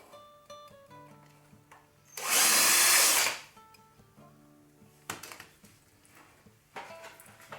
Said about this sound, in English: And to drill this, you will drill it from the inside